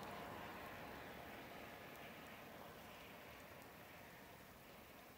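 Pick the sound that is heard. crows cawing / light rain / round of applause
light rain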